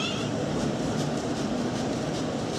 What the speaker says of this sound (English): The train's about to go past me.